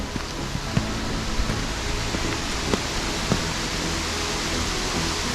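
A giant waterfall below a cliff overlook gives off a broad, steady roar like rushing water, even and constant, with a few faint clicks and taps on top and no voices.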